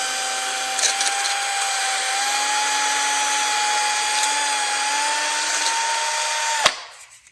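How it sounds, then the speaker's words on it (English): A small power drill spinning a Scotch-Brite pad on a 1/8 inch bit whirs at a steady high pitch for several seconds, then abruptly cuts off and spins down. "I take an 1/8 inch drill bit and I spin a piece of Scotch-Brite up on it"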